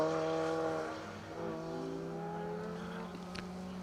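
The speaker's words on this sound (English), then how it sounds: "I can hear cars in the stage though" Several rally cars are heard on an asphalt rally stage, engines droning and shifting pitch as they pass at a moderate distance, without talk.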